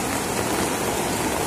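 Heavy rain pours down in Jammu and Kashmir, a dense, steady hiss of falling water filling the whole moment with no voices.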